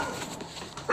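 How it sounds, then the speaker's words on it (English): A dog gives a short, fairly faint bark, apparently from a basement, in a brief burst with a muffled quality. "And that's a dog."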